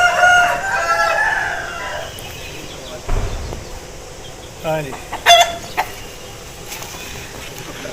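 An Aseel rooster crows and clucks in short bursts, fairly near, while someone talks over parts of it.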